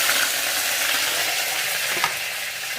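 Curry leaves crackle and sizzle loudly in hot oil along with popped mustard seeds, a dense steady frying hiss with a few sharp pops, close up and without talk.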